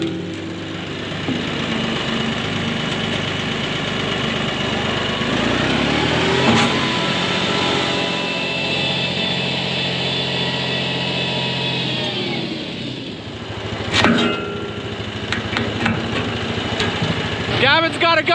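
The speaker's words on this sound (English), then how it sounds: "the tractor shouldn't have any problem just ripping them right out." A tractor engine runs steadily under load as it pulls uncemented fence posts out of the ground, a continuous close rumble that surges around the midpoint, with a couple of sharp knocks and rattles near the end.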